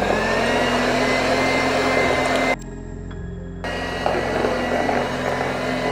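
An electric mixer beats watermelon cream pudding with a steady, close whirring drone. It cuts out briefly midway, then starts up again.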